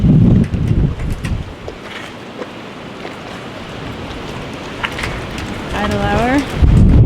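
Steady rain and gusting wind hiss throughout with low rumbling thunder bursts, near a dock at the waterside, while a voice talks briefly at the start and end.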